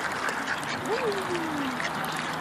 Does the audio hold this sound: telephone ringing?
no